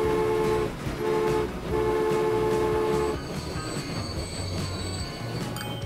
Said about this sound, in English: Oh, the first train is arriving, down here in Troll Point.